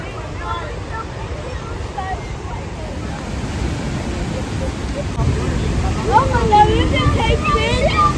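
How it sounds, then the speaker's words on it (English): Rushing water at Kalagala Falls, a continuous broad roar with wind buffeting the microphone, swelling louder toward the end while voices talk over it. "This is Kalagala Waterfall."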